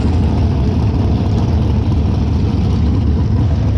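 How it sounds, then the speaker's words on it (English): Race car engines rumble together as cars roll up to the start of a race, a loud, steady low drone with no breaks. "all the cars are coming up right now"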